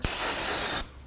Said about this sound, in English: Using some brake parts cleaner, we're just gonna clean this area, spray some,